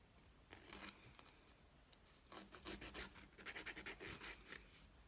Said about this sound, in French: Là donc je suis venue finir de limer